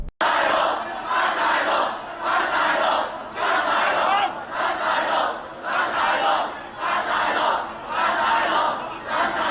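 Crowds of people shout and roar in rhythmic waves, loud repeated bursts of collective yelling like battle chants.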